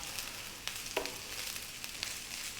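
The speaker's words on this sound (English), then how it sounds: "We really want to fry the rice now." Cold cooked carrot rice frying in a pan on maximum heat, a soft continuous sizzle with a few brief clinks and scrapes of stirring.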